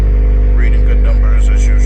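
A 2022 Acura TLX 2.0 with a straight pipe, downpipe, K-tuner and muffler delete holds a loud, raspy engine note that climbs briefly in pitch as it revs, close up and steady for under two seconds.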